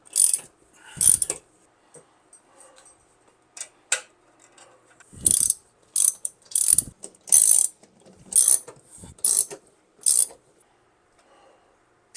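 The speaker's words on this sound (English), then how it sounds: "Now I'm going to torque these down, trying to get to 5 Newton meters." Ratchet wrench torquing screws on a wall bracket for an LG RESU 16H Prime battery, heard as bursts of sharp clicking pawl sounds in short runs separated by pauses, close and clear with no talk.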